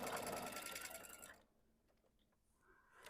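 A sewing machine straight-stitches twine with a fast, steady mechanical whir for about a second and a half, then stops, leaving only faint handling clicks.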